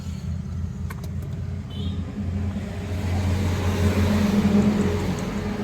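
A Suzuki Wagon R with an R06 engine idles nearby at a car dealer lot. Its low, steady rumble swells slightly toward the end, with no one talking.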